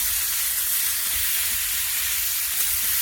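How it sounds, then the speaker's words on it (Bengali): Light sizzling of food shallow-frying in a pan, a steady broadband hiss that runs unbroken for the whole stretch at moderate level, with no voices. "একটু ভেজে নেব হালকা করে, বেশি ভাজবো না।"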